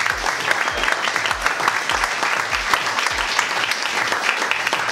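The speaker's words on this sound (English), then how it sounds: "We should give him a round of applause" A room of people applauds a guest speaker at a real estate company meeting, continuous dense clapping at even strength with no voices over it.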